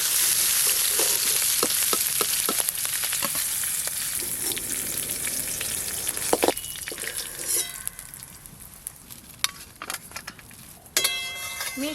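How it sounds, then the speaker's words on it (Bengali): Shrimp fry in hot oil for mixed fried rice, a loud continuous sizzle with scattered utensil clicks and taps, then quieter bubbling and a brief metallic rattle near the end. "চিংড়ি মাছগুলো ভালো করে ভাজা হয়ে গেছে"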